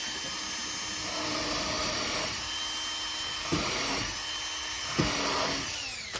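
Power drill boring into composite decking while assembling homemade screened bottom boards for beehives: a steady high whine from the motor, with a couple of sharp bites and bumps as the bit grips, close and loud, with no talking.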